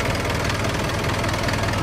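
Isuzu NKR dropside truck with a twin turbo engine idling, a steady continuous low rumble with a faint knocking texture, loud and close with no talk over it.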